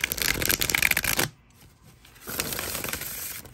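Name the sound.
shuffling a tarot card deck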